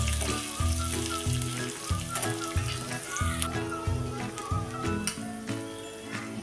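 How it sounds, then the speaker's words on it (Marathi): Hot tempering oil crackles and sizzles loudly as it is poured over a cucumber salad, with bursts of popping and a faint clink, no talking. "ती गरम गरम फोडणी आपण आता त्या खमंग काकडीवर ओतणार आहे"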